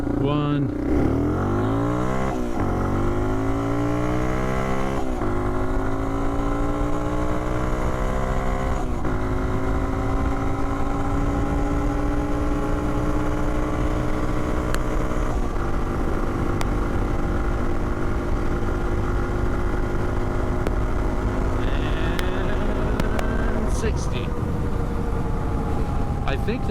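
A modified Yamaha TW200 motorcycle accelerates hard through several gears, its engine note rising in repeated climbing sweeps with drops at each shift, loud and close, with some wind and a voice talking over it.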